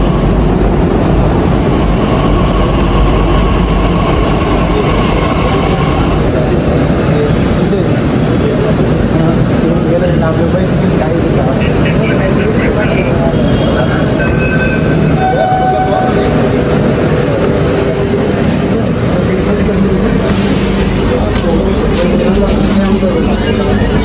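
Pune Metro train riding from the railway station to Nal Stop, a steady loud rumble and rolling hum from inside the car with brief chimes and tones, continuous throughout, with people talking over it.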